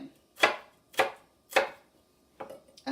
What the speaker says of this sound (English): If I want a finely diced onion, I do my little perpendicular cuts